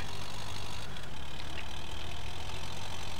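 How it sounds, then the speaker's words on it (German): Tractor engine running in the multiplayer game MTA, a steady mid-to-low idling drone that continues unbroken and fairly loud with no other sounds. "Und dieser Motorsound."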